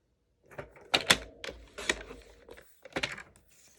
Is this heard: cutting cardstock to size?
yes